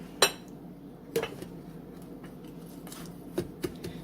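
A knife pushes hot chocolate mix down into a container, making a few quiet, scattered taps and scrapes against the container with a soft rustle between them.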